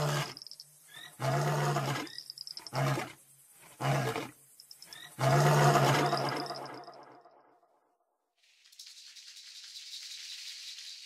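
A lion roars as a sound effect in a German audio drama set in South Africa, a series of loud, deep, rasping roars broken by short pauses, then trailing into a quiet background hiss.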